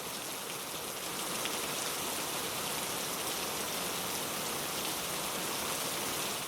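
Steady rain falling during a storm, a continuous broadband hiss of drops spattering on surfaces, even and unbroken throughout with no voices.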